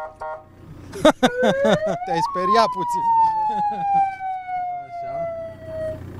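Alarm on Romania's first helicopter-style car, a rescue vehicle used at an airfield in Gorj, wails in a loud rising then slowly falling siren sweep while people talk nearby.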